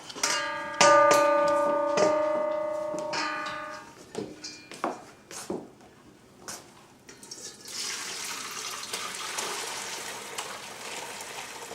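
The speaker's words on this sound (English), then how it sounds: "you're going to pour the broth through a sieve into a bowl." Broth poured and splashing through a sieve into a bowl, with clinking and tapping, then a steady trickling stream toward the end.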